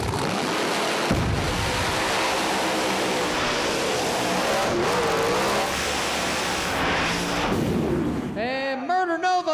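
No prep drag race cars, including a Chevy Nova, roar down the track at a Street Outlaws event, a loud sustained engine howl filling the whole stretch, with a crowd and announcer voice under it before it fades.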